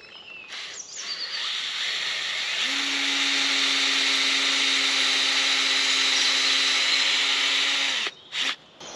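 Power drill bores a hole into tree bark, a steady close whirring whine lasting several seconds after a brief start, ending with a couple of short knocks.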